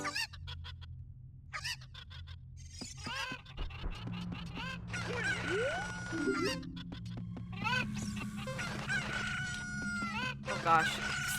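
Chickens in Ocarina of Time Randomizer cluck and squawk in bursts, with crowing and honk-like calls layered over a low steady game hum, fairly loud and close throughout.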